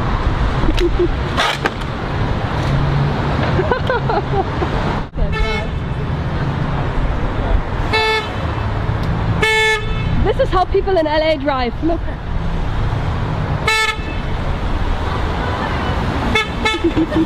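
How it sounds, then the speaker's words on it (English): A car horn honks in Hollywood, Los Angeles street traffic, several sharp toots of varying length among passing vehicles, with people talking over the road noise. "I think he was honking at us."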